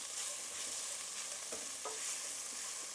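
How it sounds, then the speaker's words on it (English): Tomato paste is stirred around a hot pan and toasted, giving a continuous soft sizzle with scraping and stirring strokes close by. "give that a little mix around the pan. Get that tomato paste nice and toasty."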